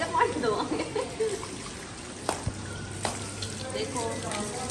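Water runs and splashes while a pet dog is bathed, a steady close rush with a few sharper splashes and knocks, and someone talking over it.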